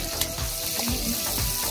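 Squid frying in hot cooking oil, a steady close sizzle with spattering pops and crackles throughout.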